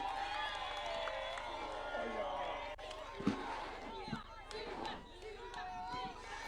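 A large outdoor political rally crowd in Mtwapa, Kenya, makes a continuous roar of cheering and scattered clapping for a local leader, with voices calling out over the din and a few sharp shouts.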